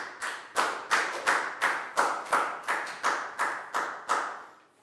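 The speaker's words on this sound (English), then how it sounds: "High five and a big round of applause for down," A class of students claps together in a steady rhythm, about a dozen even, sharp beats spaced roughly evenly, fairly close and loud, with no talking.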